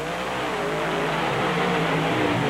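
Alcohol-fuelled Chevrolet and Ford race cars at a 1996 Canfield event launch with a loud, rough engine roar that swells steadily over a couple of seconds, with no voices.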